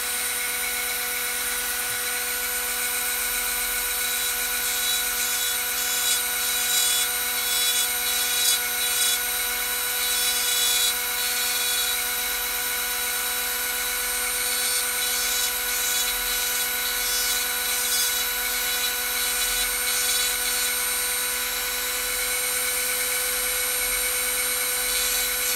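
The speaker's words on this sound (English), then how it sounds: "I like to see how it catches the Dremel sound" A Dremel rotary tool whines continuously at a steady high pitch for the whole stretch, with small fluctuations as it works a model part during a build.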